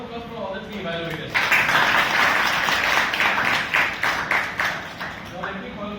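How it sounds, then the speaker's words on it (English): At a Toastmasters meeting, the audience gives the three evaluators a round of applause: a steady burst of many hands clapping that starts after a brief voice and fades slowly. "Big round of applause for all the three evaluators."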